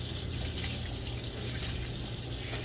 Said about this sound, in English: wash it on this side, and then you can squeeze it